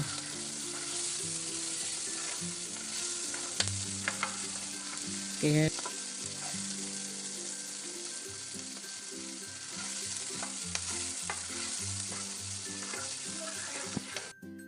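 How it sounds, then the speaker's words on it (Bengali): Chopped onions sizzle and fry in hot oil for chicken kosha, a steady crackling hiss with occasional stirring clatters and spoon knocks close by, no voices. "এর মধ্যে পেঁয়াজ কুচিটা দিয়ে দেব"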